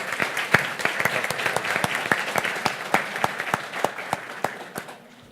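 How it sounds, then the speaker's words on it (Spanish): Audience applause at a book presentation on urban mobility: a crowd claps steadily with sharp individual claps standing out, then it thins and fades toward the end. "Un aplauso para Bernardo."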